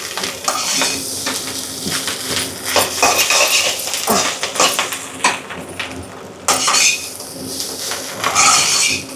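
Thin noodles being stirred and tossed in a hot pan with a steady sizzle of frying, utensils scraping and clinking against the metal in an irregular rhythm, close and fairly loud with no talking.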